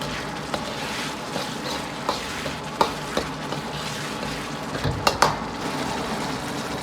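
Tomatoes with tomato paste stir-fry in a wok as cooking wine is splashed in around the edge, a moderate steady sizzle broken by scattered clicks and sharp utensil taps.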